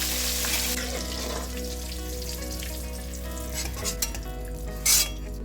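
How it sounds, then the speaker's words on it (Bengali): Brinjal pieces fry in the oil left from frying hilsa fish, a loud continuous sizzle with a steady low hum beneath, plus a couple of brief stirring clinks near the end. "ওই তেলেই আমি আগে বেগুনগুলোকে একটু লাল লাল করে ভেজে নেব।"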